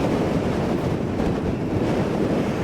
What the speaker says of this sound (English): Not much talking today because of the wind.